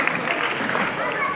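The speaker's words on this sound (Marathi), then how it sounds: "जेवढे महिला वर्ग आले त्यांच्यासाठी जोरदार टाळ्या" An audience applauds at the Pune music launch of the Marathi film Boys 3, a dense wash of clapping that runs throughout, with a voice talking over it.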